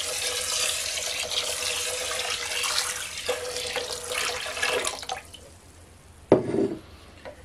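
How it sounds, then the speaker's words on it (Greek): One litre of water poured into a bowl holding 300 grams of washed wheat, a steady splashing gush that fills the bowl, then tapers, followed by a short sharp clink and trickle nearby. "Θα βάλουμε και 1 λίτρο νερό."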